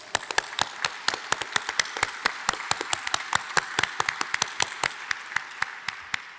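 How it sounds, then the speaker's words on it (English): Audience applause at the Yale University Naval and Air Force ROTC President's Review in 2022: steady, fairly even hand claps carry on throughout, crisp and close, with no voices over them. "So let's give a big round of applause for all of those."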